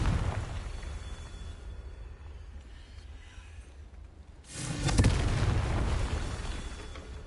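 Confringo spell explosion in Hogwarts Legacy: low rumbling ambience, then a sudden loud, booming blast about two-thirds through that rolls on and slowly fades.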